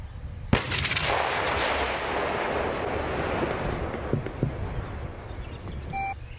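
A single sharp shot from a 2S19 Msta self-propelled howitzer cracks out, followed by a long rolling rumble and echo that lingers and slowly dies away.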